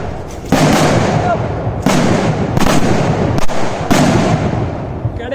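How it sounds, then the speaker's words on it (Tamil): Several loud, close bursts of powerful firecrackers go off in succession, each a sharp blast trailing into crackling noise, with scattered voices underneath. "வெடிக்க போகுது."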